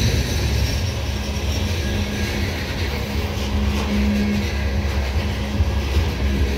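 A loaded CSX coal train rumbles past behind a Mack-built diesel locomotive, with a steady low engine roar and rolling noise, loud and close, no voices.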